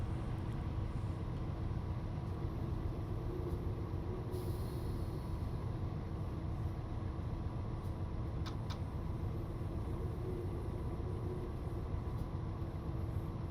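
KCS freight train rolling along the Shreveport Subdivision in the Train Sim Classic simulator, with a dense, even low rumble of wheels and engine running throughout and a couple of faint higher clicks.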